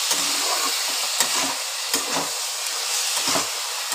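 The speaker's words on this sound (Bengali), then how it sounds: "এবার আবার একটুখানি নেড়ে নিচ্ছি।" A spatula stirs a vegetable curry with chillies and sugar in a hot pan, close sizzling and hissing broken by several sharp scraping strokes at uneven intervals, no voice.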